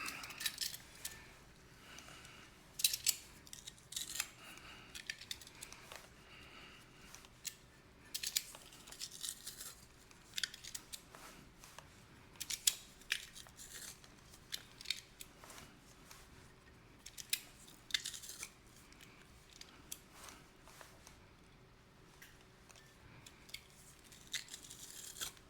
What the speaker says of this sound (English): All right, so I'm going to crush this garlic.